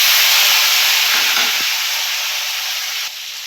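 Chopped tomato hits hot oil and sizzles loudly, a strong continuous hiss with a few faint knocks partway through, easing slightly toward the end.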